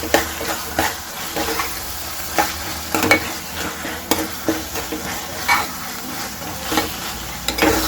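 Green chickpeas in a spiced curry sizzle gently in a pan while a spoon stirs through them, producing repeated scraping clinks and soft frying crackle at close range with no voices.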